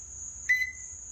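A bird mimics a smoke-detector beep, giving one short, clear electronic-sounding chirp at close range over a steady high background tone.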